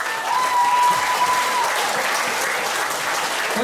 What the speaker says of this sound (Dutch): allereerst een applaus voor deze enorme strijders